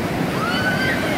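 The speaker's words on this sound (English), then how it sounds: "Look at the waves." Ocean waves wash onto a beach in a continuous loud surf roar with some wind noise, and a faint tone comes through briefly.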